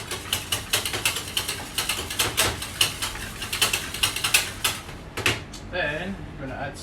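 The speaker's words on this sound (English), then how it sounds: "We're going to gently whisk these up." Eggs being gently whisked for cheese scones, a steady series of quick rhythmic taps and clicks of a whisk against the container, close by, ending with a few louder knocks and a voice at the end.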